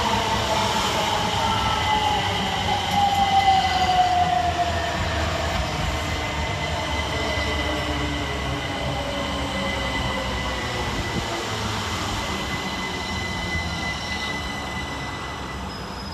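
A pair of Class 377 electric passenger trains rolls steadily through Hassocks station, with a loud broadband rumble, a faint descending whine at the start, and sustained wheel and motor noise throughout.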